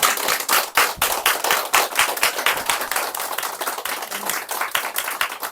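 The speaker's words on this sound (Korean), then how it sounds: "끝으로 박수 한번 예," An audience at a book talk applauds, with sharp, dense clapping from many hands that sounds fairly close and stays fairly steady, easing slightly toward the end.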